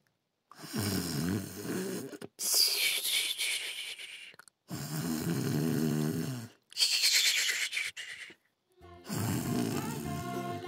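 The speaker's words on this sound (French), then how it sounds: "elle entendit Mamie Pie ronfler." Loud, exaggerated snoring repeats in long rhythmic cycles, alternating deep rumbling inhales with airy whistling exhales, separated by brief silences.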